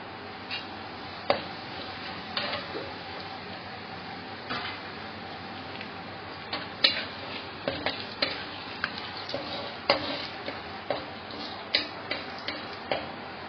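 Cumin seeds sizzle in hot desi ghee as a soft, constant fizz, broken by sharp ticking clicks and taps of a spoon stirring in the pan.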